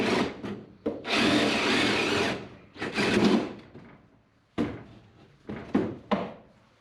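A saw cutting through construction screws while a garage door opener is installed, heard as harsh grinding bursts of a second or more with short pauses between them, close and loud.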